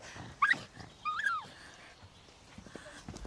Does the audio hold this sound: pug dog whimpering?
yes